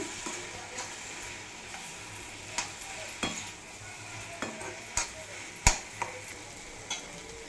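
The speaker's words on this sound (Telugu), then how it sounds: "ఇప్పుడు హోమ్ మేడ్ గరం మసాలా వేస్తున్నాను. వేసి మళ్ళీ బాగా మిక్స్ చేస్తున్నానండి." A spoon stirs brinjal curry in a pan after homemade garam masala goes in, with scattered metallic scrapes and clinks over a faint, steady sizzle, close by.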